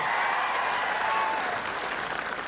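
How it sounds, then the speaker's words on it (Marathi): A crowd at a political rally applauds, a dense, loud, continuous roar of clapping from many people that holds steady throughout. "त्या माणसासाठी एक टाळ्या सगळ्यांसाठी टाळ्या"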